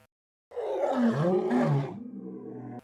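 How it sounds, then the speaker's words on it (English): A single deep, sustained lion roar, loud and close, rumbling for about two seconds before trailing into a lower growl. "All of the roars sound like lion roars."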